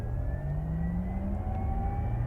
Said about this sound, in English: So it's an augmented sound that the car actually makes. The motors actually make that sound.